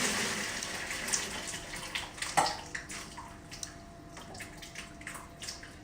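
Hot water from boiled cauliflower pours out of a pan into a kitchen sink, a steady splashing gush with small clanks and drips, fairly close and without speech.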